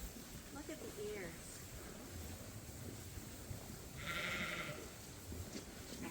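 Sheep on a sheep farm, a couple of bleats heard among outdoor background noise, with people talking nearby throughout.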